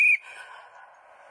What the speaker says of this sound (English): when I blow my whistle like this